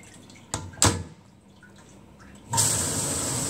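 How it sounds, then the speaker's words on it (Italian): An Omniwash glass washer runs its washing cycle with the door open: two sharp knocks early, then a steady loud hiss of spraying water that starts abruptly and continues to the end, with no talking. "Intanto apriamo lo sportello per vedere come avviene il lavaggio."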